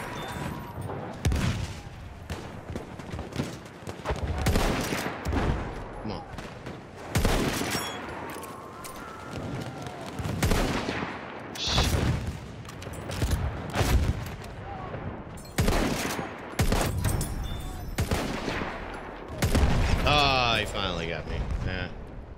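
Rapid video game gunfire in a Name of the Tsar map, bursts of shots and booming blasts fired through smoke, loud and close, with players talking over the shooting.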